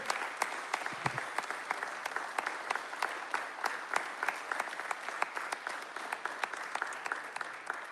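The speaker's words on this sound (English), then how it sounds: "Round of applause." Steady applause from a group at an award ceremony claps continuously for several seconds, even and fairly faint, with no pauses.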